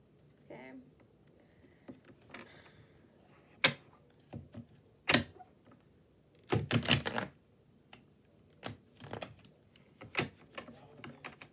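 Tarot cards shuffled by hand, giving a run of sharp riffling snaps and soft slides, irregular and close, with quieter rustling between bursts.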